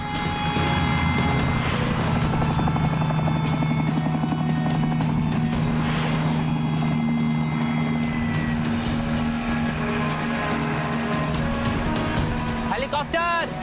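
A toy helicopter flies with a steady, buzzing motor whine that runs continuously throughout, heard beneath and between people talking excitedly.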